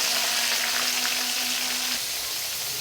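Whole spices stirred and fried in a pan for Bengali goat curry, a loud, dense, continuous sizzle close up with a faint steady hum beneath.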